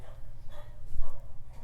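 A dog indoors barks at other dogs outside in a few quick, muffled woofs and whimpering yips close by, set against a low background hum.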